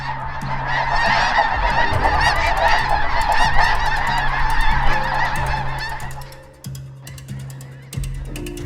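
Loud, rapid honking of a flock of geese, overlapping calls that thin out toward the end into a few scattered honks.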